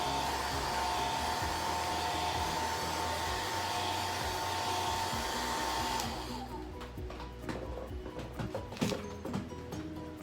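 A hair dryer blows continuously for about six seconds while drying a chalk paste transfer, then switches off and faint handling noises follow.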